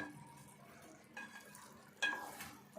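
Softened tomato curry stirred in a pan over the heat, a soft scraping churn with faint sizzling underneath and a couple of sharper clinks near the end, quiet overall.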